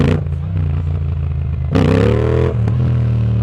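A 2025 Yamaha MT-07 motorcycle engine is blipped in first gear, running at a close, loud idle that rises into a short rev before settling back down.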